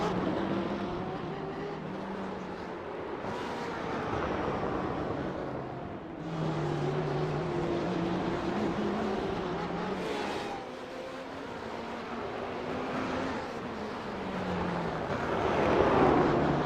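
Racing cars, including a Ferrari, lap a Detroit circuit, their engines droning steadily with rising and falling pitch as they pass, a continuous loud roar with no talk.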